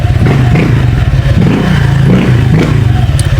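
Honda Click 125 scooter with a freshly cleaned CVT, its engine revving loudly and close in repeated blips over a throbbing, slightly clattery idle.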